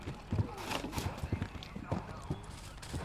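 Hooves of a top, experienced event horse strike the ground on a cross country eventing course, a series of thudding beats at an uneven gait, moderately close, under continuous commentary.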